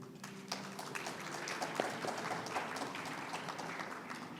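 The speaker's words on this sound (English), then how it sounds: "A big round of applause for all of them," Audience at an international academicians forum in Hong Kong applauds panelists from the University of Hong Kong's Department of Medicine, a steady wash of many hands clapping throughout that swells slightly, fairly distant in a large hall.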